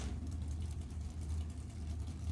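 A supercharged 500-cubic-inch Chevy engine in a 1959 Rambler wagon drag car sits at the line at a nostalgia drag racing event, its deep, throbbing rumble steady and fairly faint, as if heard from a distance.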